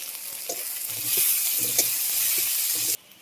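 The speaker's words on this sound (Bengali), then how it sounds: "দিয়ে দিচ্ছি পাঁচফোড়ন, পেঁয়াজ, কাঁচা লঙ্কা" Panch phoron, chopped onion and green chili frying in hot oil in a pan after potatoes were fried, giving a steady loud sizzle with stirring scrapes, cutting off abruptly near the end.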